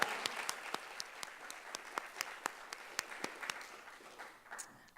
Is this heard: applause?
yes